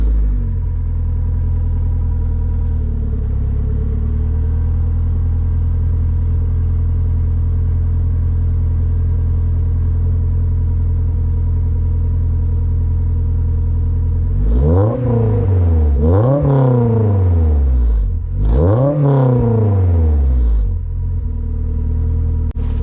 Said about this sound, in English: I guess I could do a first startup for you guys though.